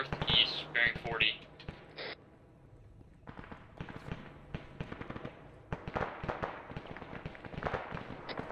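Arma 3 combat: a large enemy group in the woods fires in rapid, irregular bursts of gunshots at mid distance. Crackling volleys stop briefly, then resume, and voices talk over the shooting.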